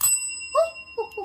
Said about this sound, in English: First, we got to get the bell to work.